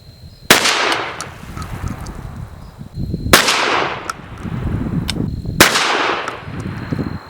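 Three sharp, loud blasts from a CZ 1012 semi-automatic shotgun firing loads ranging from birdshot field loads to sabot slugs, each spaced a few seconds apart with a long ringing decay over an outdoor range.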